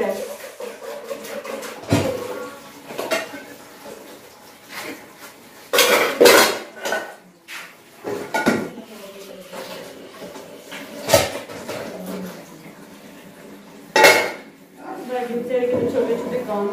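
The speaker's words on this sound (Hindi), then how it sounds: "मैं फटाफट से बर्तन धो के फिर आटा गूंथी" Dishes, pots and utensils are washed by hand, with loud clattering clanks and cutlery clinks coming in uneven bursts while someone talks throughout.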